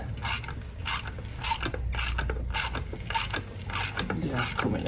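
A ratchet turns out tight, Loctited alternator cover bolts on a Kawasaki ZX6R J2, with eight evenly spaced bursts of close, crisp clicking and no talk.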